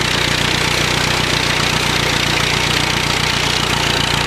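A two-wheel drive Massey tractor engine labors steadily through mud at close range, a loud continuous rumbling drone with a knocking pulse, no voices.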